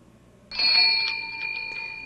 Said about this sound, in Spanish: Tercer campanazo